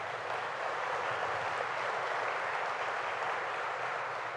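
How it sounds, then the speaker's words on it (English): A crowd at a downtown revitalization announcement in Oswego applauds Tom Snyder in a steady, uniform wash of many hands clapping at moderate loudness, with no voices heard. "I'd like to give Tom in particular a round of applause."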